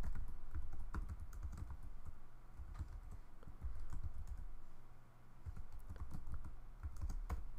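A computer keyboard is typed on at close range in steady, fast bursts of light key clicks with short pauses, with no talking over it.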